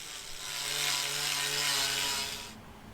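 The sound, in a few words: angle grinder buffing wheel polishing metal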